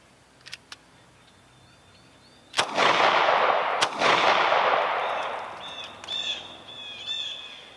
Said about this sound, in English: We're gonna go for the upper right-hand target, take 2 shots in that and see how that does.